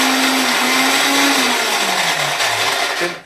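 A mixer grinder whirs loudly and continuously up close, its motor pitch sliding gradually lower before it winds down at the end.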